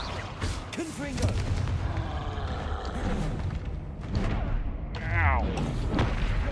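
Confringo fire spells burst in Hogwarts Legacy combat, with several muffled booms and crackling blasts amid game effects and a voice casting spells, all fairly quiet.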